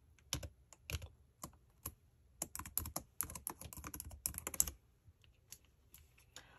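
Rapid typing on a laptop keyboard with a broken key, bursts of clicky keystrokes with short pauses between, close and clear with no talking.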